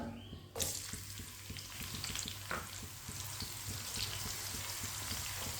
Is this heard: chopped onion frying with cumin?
yes